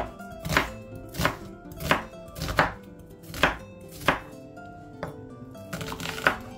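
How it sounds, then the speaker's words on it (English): A knife cuts through a tomato on a cutting board in about nine evenly spaced, crisp strokes, each a sharp close chop with a soft thud, set against quiet background. "Gonna slice it this way and then halfway again."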